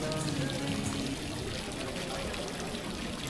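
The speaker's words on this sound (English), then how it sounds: "They like to pour their beers with a nice good head on them." Beer pours steadily from a tap into a glass in a continuous gurgling stream, fairly close and moderately loud, building a big head, with no talking over it.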